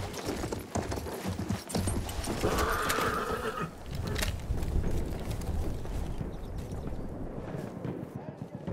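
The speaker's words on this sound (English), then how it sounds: "I can ride a horse." A horse in the Battlefield 1 video game gallops with steady clip-clopping hooves and lets out a loud neigh, set against a dense rumble of battle sounds with a voice speaking over it.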